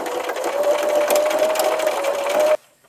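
A sewing machine stitches decorative star quilting on a table runner in variegated blue thread at its longest stitch length, running with a loud, even, steady whir for about two and a half seconds before stopping abruptly.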